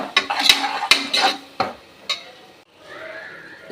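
Mutton biryani ingredients and yogurt are sautéed and stirred in a pot. A utensil scrapes and knocks against the pot in several sharp hits, then a softer sizzle follows.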